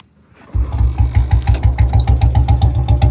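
A Bullet motorcycle, kick-started, catches at about half a second and then settles into a loud, steady single-cylinder thump. Each pulse is even and close, and no one speaks over it.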